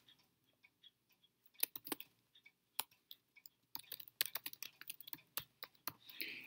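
Typing on a computer keyboard while filling in name fields for web indexing, a sparse then quickening run of close, crisp key clicks with short pauses, quiet and alone.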